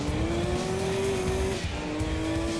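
A race car in the video game Gran Turismo 2 holds a loud, steady engine drone with a rising pitched whine and a sustained tire squeal close up, without talk.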